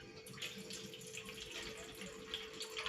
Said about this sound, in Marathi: आता ही भिजलेली आहे आता ह्याच्यातलं आपण पाणी काढूया